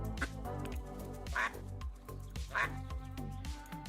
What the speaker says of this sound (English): we got ducks. We got ducks down here.